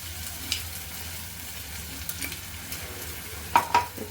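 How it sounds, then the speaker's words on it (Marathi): Ground spice paste with asafoetida fries in hot oil in a pan, giving a faint, steady sizzle, with a few soft spoon clicks and scrapes near the end. "थोडंसं आपल्याला परतून घ्यायचं त्या वाटणामध्ये थोडंसं आपल्याला ते हिंग घ्यायचं"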